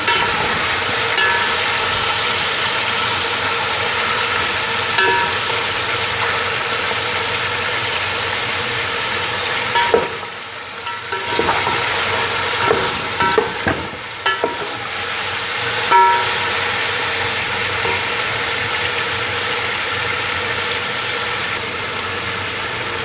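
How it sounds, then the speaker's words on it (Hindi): Chicken frying in a pot for Sindhi pulao biryani, a steady broadband sizzle that runs throughout, with a few stirring scrapes and clinks around the middle and no voices. "तो चिकन हमने ऐड कर दिया, इसको हम कर लेंगे फ्राई।"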